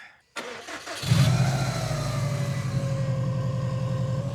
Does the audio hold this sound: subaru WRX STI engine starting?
yes